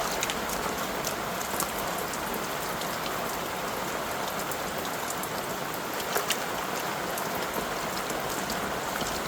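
Steady running water rinsing the roots of a carnation plant during repotting, a continuous even splashing hiss throughout with no talk.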